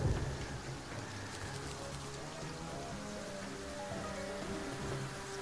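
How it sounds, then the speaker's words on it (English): Steady rain patters in the video game Terraria, a dense continuous wash with tonal game music threaded underneath, moderately loud and unbroken for the whole stretch with no voices. "I'd love it to stop raining,"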